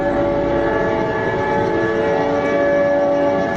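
A train rumbles by at night with a steady, dense roar and a sustained tonal hum, a constant level from start to end with no voices.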